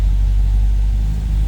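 A 1960 Nash Metropolitan Series IV hardtop engine holds a raised idle close by. It gives a loud, steady low rumble that stays even throughout.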